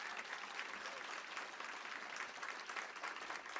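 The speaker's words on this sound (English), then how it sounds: "Give them a big round of applause." Audience at a business luncheon applauding, sustained dense clapping from a room full of people with no voices over it.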